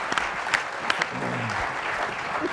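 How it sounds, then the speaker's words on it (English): An audience applauds at an entrepreneurship challenge event, a steady wash of clapping under a faint murmur of voices, with a few sharper individual claps standing out. "everyone give a nice round of applause"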